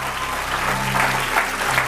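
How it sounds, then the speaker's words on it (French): An audience at a French film quiz show applauds a winner with dense, steady clapping that fills the whole moment at an even level. "On peut l'applaudir."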